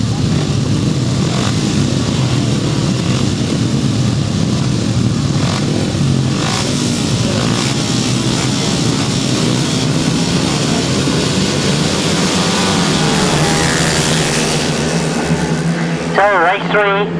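Grasstrack racing motorcycles at the 2014 British Masters roar into the first turn, a dense, sustained drone of several engines with some revving, heard under continuous commentary.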